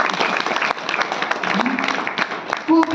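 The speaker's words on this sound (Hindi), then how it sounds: "ताली तो बजा दो" Audience clapping at a spiritual talk, a steady burst of applause filling the room for about three seconds, with a brief voice rising at the end.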